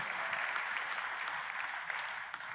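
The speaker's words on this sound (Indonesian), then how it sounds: "Kita kasih tepuk tangan dong yang paling meriah buat Tuhan kita." A church congregation claps in steady, sustained applause for God during a sermon, many hands blending into a dense, even wash heard from within the room.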